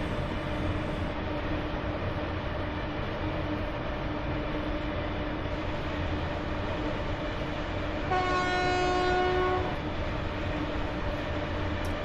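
A train drives in the game Train Simulator Classic, giving a steady rolling rumble with an engine drone, and a loud horn sounds for about a second and a half partway through, with no talk.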